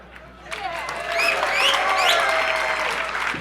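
Studio crowd applause building after a quieter start into a full, sustained round of clapping, with scattered cheers and a voice speaking over it.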